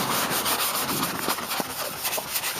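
Chalk rubbed by hand over a Chevy car body being prepped for paint, a close, quiet, continuous scratchy rubbing in short back-and-forth strokes.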